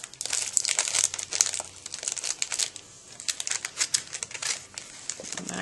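A paper Christmas treat bag is folded and crinkled by hand, giving close, crisp rustles and crackles in irregular bursts, with a short quieter pause midway.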